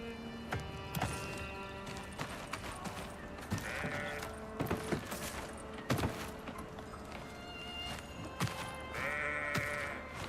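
Bleating of a goat in an extraction-shooter video game, repeated nasal bleats in short bursts over game ambience with clopping hoof-like steps and sharp impacts, moderately loud.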